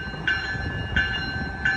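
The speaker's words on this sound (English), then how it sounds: "Amtrak Capital Corridor Train" Amtrak Capital Corridor passenger train 542 at the Oakland Jack London Square station: three evenly spaced, bell-like tonal strokes ring over a low rumble, fairly close.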